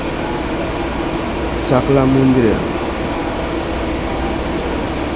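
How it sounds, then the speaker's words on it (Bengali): Inside a moving train carriage, a steady even hum and rumble carries on throughout, with a short burst of speech from one person partway through. "স্টেশনে এসে ট্রেন ধরে যাচ্ছি"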